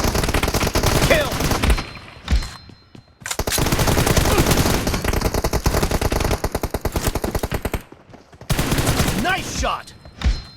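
Gunfire in a shooter video game: long bursts of rapid automatic fire, loud and dense, broken by brief gaps with a few single shots, heard alone without talk.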